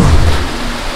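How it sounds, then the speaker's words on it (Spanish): Heavy rain pours down steadily at night in a dense, close hiss, with a deep low rumble underneath, during the Fiesta del Señor de Acoria in Huancavelica, Peru. "Y entrada la noche, la lluvia caía con fuerza."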